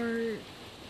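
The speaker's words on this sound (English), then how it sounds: "It's raining." Rain in the Little Nightmares 2 video game, a steady soft patter of drops on surfaces after a brief held tone fades out, continuing alone at moderate level.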